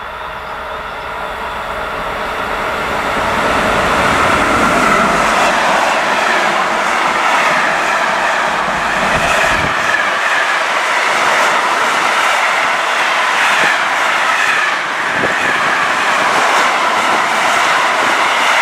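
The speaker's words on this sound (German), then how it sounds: "Zug fährt durch." An ÖBB locomotive hauls a freight train straight through a station, a loud continuous roar of wheels and wagons that builds over the first seconds and then holds steady and close, with a faint rail clatter running through it.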